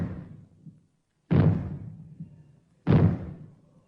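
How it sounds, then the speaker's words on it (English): Warning maroons, explosive signals used to warn of radioactive fallout, shown at the Kelvedon Hatch nuclear bunker. Deep booming bangs come about a second and a half apart, each dying away slowly, with the tail of an earlier bang at the start. "When fallout is expected, you will hear 3 bangs in short succession. They will be sounded by means of maroons like this."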